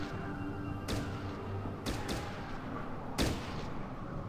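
A few sharp shots from prone shooting in Fallout Tactics ring out, three or four separate bursts spaced about a second apart over a steady low game background.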